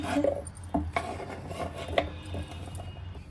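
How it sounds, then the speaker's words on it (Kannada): Chopped raw mango pieces tip into a steel mixer jar with a few light clinks and scraping knocks, quiet and close, with short metallic taps spread over a few seconds and no talking. "ಈಗ ನೋಡಿ, ಮಾವಿನಕಾಯಿ ಹೆಚ್ಚಿದ್ದೀನಲ್ಲ, ಅದನ್ನೆಲ್ಲ ಮಿಕ್ಸಿ ಜಾರಿಗೆ ಹಾಕೋಣ"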